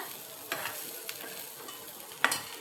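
Tondli and chana dal bhaji frying in a little oil in a pan, with a soft continuous sizzle and occasional scraping stirs of a spoon close up, no talking.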